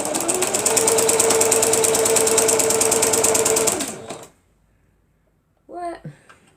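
A sewing machine stitches a medicine bag in a fast, steady, close run of needle strokes for about four seconds, then stops, and a brief voice follows after a short silence.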